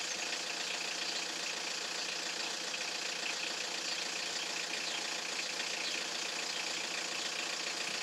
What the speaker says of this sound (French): Arrêtez le compresseur lorsque la pression désirée est atteinte.